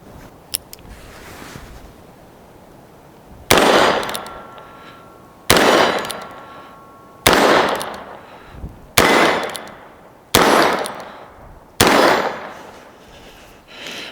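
A Heritage Arms Rough Rider revolver fires six .22 Magnum rounds. Each loud, sharp crack is followed by a ringing decay, spaced about one and a half to two seconds apart after a quiet lead-in with faint handling clicks.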